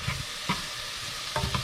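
Pineapple pieces cooking in a pan for homemade barbecue sauce, stirred with a few quick scraping strokes over a faint, low sizzle, close and fairly quiet.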